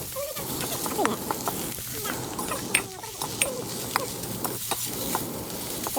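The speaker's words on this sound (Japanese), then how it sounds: "やっぱり中華は2度炒めるんだ。" Twice-cooked pork being stir-fried in a pan over a campfire at an outdoor barbecue, with scattered scraping and clattering strokes over a steady low sizzle, and people talking nearby.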